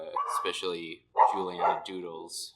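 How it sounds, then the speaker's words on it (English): A dog barks in a few short, close bursts beneath a woman's speech indoors at home. "Why is my dog barking?"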